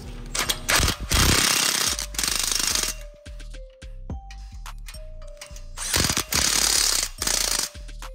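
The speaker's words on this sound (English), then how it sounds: "Tie it manually by a regular ratchet." A hand ratchet tightens hangers on a replacement catalytic converter exhaust, giving close, loud bursts of rapid clicking separated by short pauses, with metallic clanks between strokes; no one speaks.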